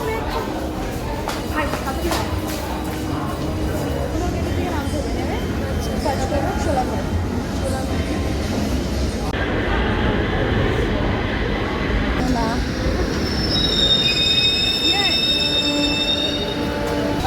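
A metro train near Shobhabazar station rumbles loudly throughout, with wheels squealing on the rails toward the end and voices talking underneath the noise.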